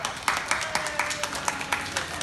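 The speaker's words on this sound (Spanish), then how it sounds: "Bueno, otro aplauso por Atlético, a ver." Children in a kindergarten classroom clap together at a teacher's prompt, a run of about eight fairly even claps close by, with light voices in the background.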